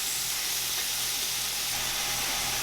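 Onions and garlic sizzle gently in oil in a pan, a continuous close hiss and crackle with no talking.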